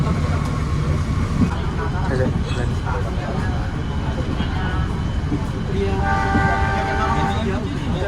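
A KA Dhoho commuter train runs along the rails with a loud, continuous rumble of wheels and carriage noise, with steady tonal bursts near the end and voices talking over it.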